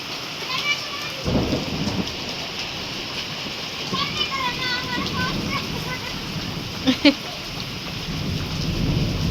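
Heavy rain pours down steadily over hills in a village with a low roll of thunder, while voices chatter nearby.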